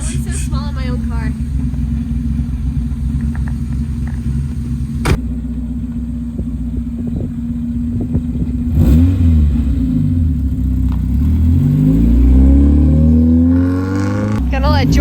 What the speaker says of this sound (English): Drive it around the parking lot, see how it feels.